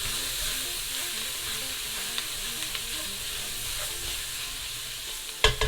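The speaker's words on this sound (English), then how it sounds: "we're just going to saute the trinity until they get nice and soft." Green peppers, onions and celery sauté for gumbo in a hot pan, a steady close sizzle and fry hiss with occasional stirring clicks and a sharper clatter near the end.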